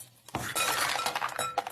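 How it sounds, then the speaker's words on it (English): Ice cubes tumble into a glass in one loud burst of clattering clinks and knocks, settling into scattered rattles over about a second and a half, with no talk. "dump the ice cubes in here"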